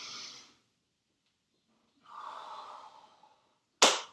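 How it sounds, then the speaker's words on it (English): A deep breath during a workout cool-down after interval training: a soft exhale, a pause, then a long audible inhale drawn in close, followed by a sharp, loud snort-like release. "And one big deep breath in to finish it up."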